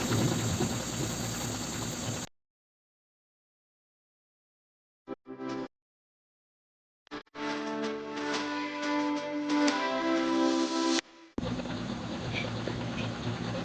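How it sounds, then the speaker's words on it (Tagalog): Vegetable lumpia fry in hot oil in a pan with a dense, crackling sizzle that comes in bursts, broken by stretches of silence. "Ngayon magpiprito na tayo. Prituhin na natin siya at nag-init na ako ng mantika."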